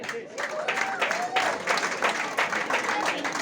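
An audience claps at an Abu Dhabi Karnataka Sangha event for the Tulu film Middle Class Family. The applause is dense and sustained, fairly distant, with voices mixed through it.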